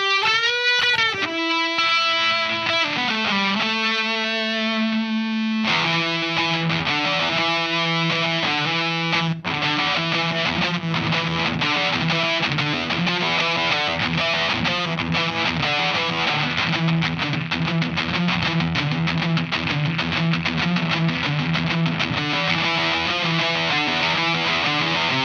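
Heavily fuzzed guitar tone from a vintage-style fuzz pedal, thick and buzzy with sustained harmonic-rich notes and bends, played alone at steady high volume throughout.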